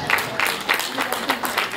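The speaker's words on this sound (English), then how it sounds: "I want you to give a round of applause for everyone who's come up here" Talent show audience applauding the performers, a moderate, uneven patter of clapping mixed with crowd voices and speech.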